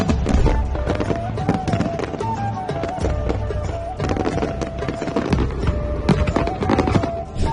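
Diwali firecrackers burst in a continuous, crackling barrage of sharp pops and bangs, dense and loud throughout with a faint tonal layer underneath.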